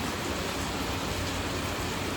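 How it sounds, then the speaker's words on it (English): Heavy outdoor rain pours down steadily, forming a dense, even wash of noise with no talking. "out here as it's raining cats and dogs"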